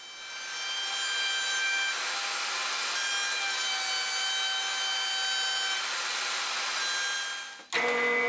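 A router with a roundover bit whines steadily as it shapes wood, a loud sustained high-pitched roar that stops abruptly near the end.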